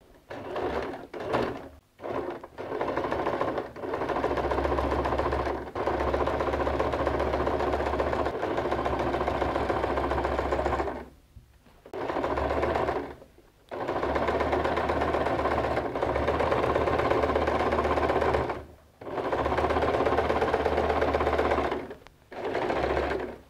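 A sewing machine stitches a denim bag lining made from recycled jeans, working along the gusset in long loud continuous runs broken by several brief stops, with no voices.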